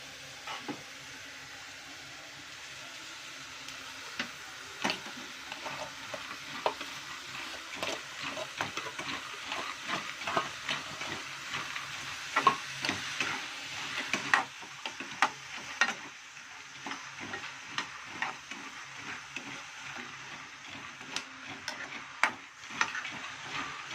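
Onions frying in groundnut oil until golden give a soft, steady sizzle sprinkled with frequent tiny pops and crackles that grow busier toward the end, faint and close, no voices.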